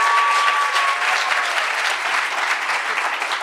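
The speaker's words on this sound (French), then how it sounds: "Et les applaudissements pour Louise" Thick, even applause from an auditorium crowd at a French PhD thesis presentation contest, continuous and fairly loud throughout with no break.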